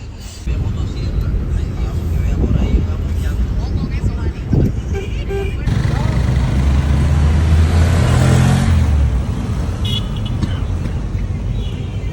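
Car engine and road noise from inside an Uber ride through Cartagena streets, a steady low rumble that swells around the middle, with people talking over it.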